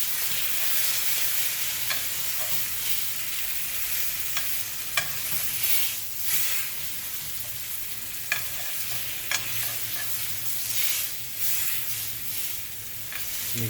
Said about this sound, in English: Make sure all surfaces of the steak are making contact with the pan at all times.